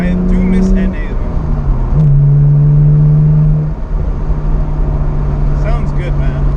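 A BMW 128i pulls on throttle from inside the cabin, its engine note rising and holding as revs climb, while people talk over it throughout.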